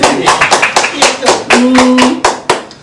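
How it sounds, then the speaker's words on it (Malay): Audience clapping at a Malaysian corporate interview event, a loose burst of hand claps with uneven rhythm, mixed with some background voices and a brief tonal hum partway through. "Tepuk tangan."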